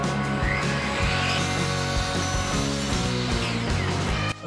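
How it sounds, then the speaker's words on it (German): A hand saw cuts through wood for building a child's chair, with loud, close, rhythmic back-and-forth rasping strokes that continue throughout. "Das ist dann ein bisschen einfacher mit der Handsäge"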